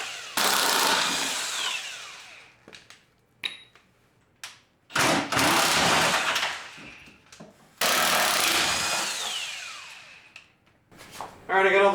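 A power tool spins out 16 mm body bolts on a Jeep LJ in loud whirring bursts separated by pauses, with clanks of tools and metal between runs.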